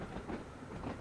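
A train running on the Isle of Wight line in Train Sim World 5, giving a steady, loud rumble with a faint rhythmic clatter of wheels throughout.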